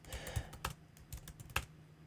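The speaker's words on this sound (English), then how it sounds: "You enter tags by typing them into the tags field and separating them with commas." Tags being typed on a computer keyboard, heard as quiet, close, irregular key clicks, about a dozen taps with short pauses between them.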